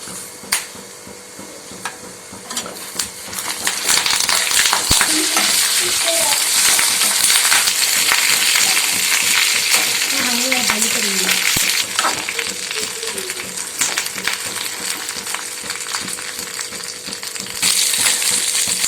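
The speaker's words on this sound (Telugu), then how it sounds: "ధనియాలు కూడా ఫ్రై అయిన తర్వాత కరివేపాకు వేసుకున్నామండి" Curry leaves frying in a pan alongside already-fried coriander seeds for a curry leaf spice powder, giving a steady, close hiss that swells after a few seconds and holds with small crackles and pops throughout.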